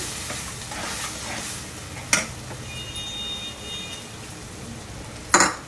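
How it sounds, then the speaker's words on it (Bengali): Semolina upma with a little added water is stirred in a pan with a spoon over soft, steady sizzling, and a couple of sharp clinks of metal against the pan ring out. "অল্প অল্প করে জল দিয়ে ভালো করে মিশিয়ে নেব"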